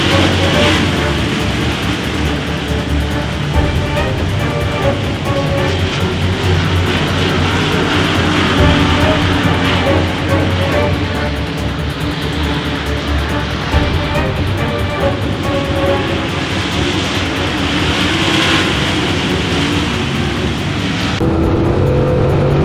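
UK Modified race cars roar around the Charlotte track in the closing laps of a feature race, a loud continuous engine blare with swelling passes and no break.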